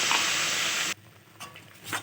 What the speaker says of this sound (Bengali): এভাবে ভালোভাবে নাড়তে থাকবে